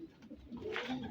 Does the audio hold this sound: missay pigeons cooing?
yes